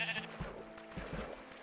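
A Minecraft sheep bleats faintly, a few short wavering baas in quick succession against quiet background sound, no speech.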